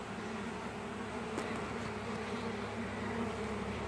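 Italian honey bees buzz while being hived in May, a faint, steady droning hum that holds evenly throughout with no voices.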